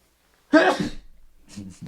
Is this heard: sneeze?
yes